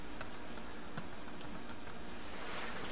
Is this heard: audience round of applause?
no